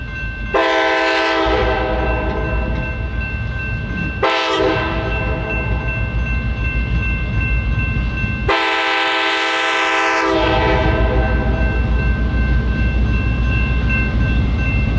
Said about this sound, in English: K5LA air horn.